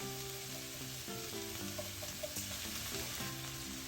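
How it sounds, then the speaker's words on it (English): Garlic sizzles steadily in a hot frying pan for a Huevos Rancheros casserole, giving a continuous close crackle with faint clinks and stirring, and no talk over it. "I want it to sizzle in here to release its flavor."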